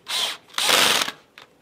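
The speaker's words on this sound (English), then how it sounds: "Take your cordless drill and set it on number 8. And run the screw in." A cordless drill drives a screw into a wooden post of a Timbernation hi-end audio stack rack in two loud, close whirring bursts, followed by a brief final blip.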